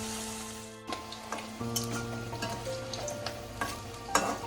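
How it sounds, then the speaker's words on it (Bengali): Paneer frying in oil with a soft sizzle, broken by several clinks and scrapes of a utensil turning the pieces, with a steady low hum underneath. "পনিরগুলো উল্টে পাল্টে আমি ভেজে তুলে নিয়ে তারপরে আপনাদেরকে দেখাচ্ছি।"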